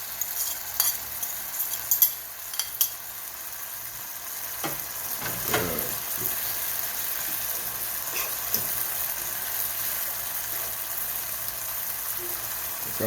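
Saltfish, also called codfish, hits a hot pan with a steady sizzle, while clattering utensil scrapes and knocks from stirring come through early and midway.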